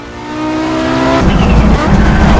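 Audi Quattro rally car in the Assetto Corsa racing game, engine droning steadily then surging louder into a harsh, rough roar as it accelerates, with faint talk underneath.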